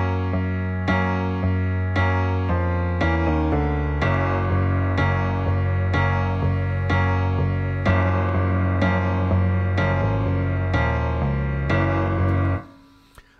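A bass line plays back on its own without drums, steady low notes sustained in an even rhythm with keyboard chords above, clear and continuous until it cuts off at the end.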